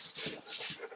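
A dog close by makes short scuffling, whimpering noises indoors, two or three brief bursts within a second.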